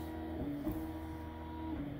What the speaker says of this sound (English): That's going to make the machine go around. It's trying to check the stitch.